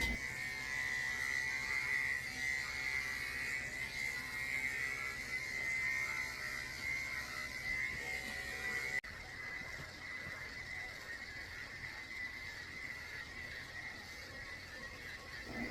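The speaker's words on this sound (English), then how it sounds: "I pull his skin tight while I'm shaving him so the clipper won't catch his skin" Electric clippers with a 10 blade buzz steadily and close up as they shave a poodle's coat, dropping to a quieter hum partway through.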